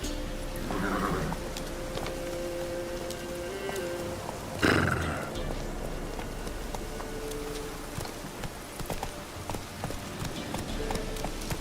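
A horse in The Witcher video game whinnies clearly near the start, then its hooves clip-clop in a steady rhythm over a rainy ambient background, with a brief louder whinny or snort midway.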